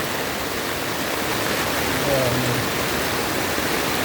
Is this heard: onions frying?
no